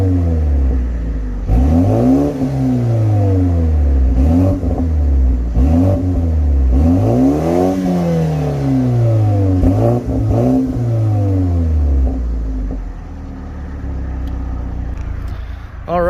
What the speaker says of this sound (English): a little exhaust note test there in Sport warmed up